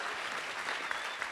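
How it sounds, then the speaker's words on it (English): An audience at a youth engagement summit claps briefly in a steady, moderately distant wash of applause. "Could give him a round of applause."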